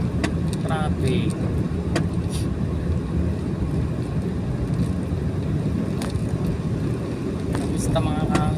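A Suzuki minivan drives through traffic with a steady low engine and road rumble from inside the cabin, joined by a few brief sharp clicks and taps.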